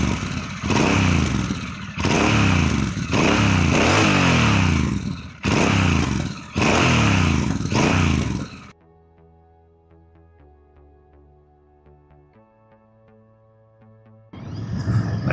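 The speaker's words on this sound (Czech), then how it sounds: "Můžeme si poslechnout zvuk té motorky." A Royal Enfield Bear 650 motorcycle engine revs in several loud, pulsing bursts nearby, then drops away to a faint, quiet idle before a brief final rev.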